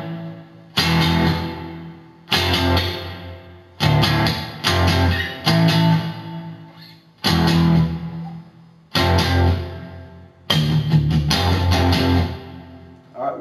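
An electric guitar plays the second guitar part of the intro riff to a song, barring the bottom three strings in loud, distorted, repeated chord bursts separated by short stops, up close.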